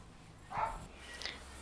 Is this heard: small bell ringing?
no